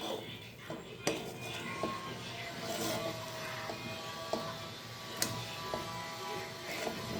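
A pot lid lifting off freshly cooked pulao, with scattered metallic clinks and clatters of cookware over a steady kitchen background; a few sharper knocks stand out near the start and middle.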